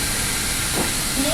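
Steam hisses from pipes in the video game Metro Awakening, a constant loud, even hiss that fills the whole short stretch with no pause.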